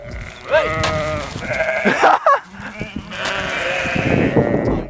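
An angry wild bighorn sheep bleats in several harsh, wavering cries, close and loud, with scuffling and rustling noises between the calls.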